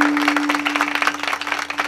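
Audience applause at a kirtan, a brief stretch of dense, steady crowd clapping over a constant sound-system hum, with no voices.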